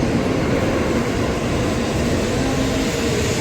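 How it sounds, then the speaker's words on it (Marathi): Steady loud rumbling roar of a Nozomi Shinkansen bullet train travelling at high speed in Japan, heard as a continuous broadband drone with a faint tonal hum and no pauses or talk. "नोझोमी ही सगळ्यात फास्टेस्ट ट्रेन आहे आणि आम्ही त्याच ट्रेनने जाणार होतो टोकियोला"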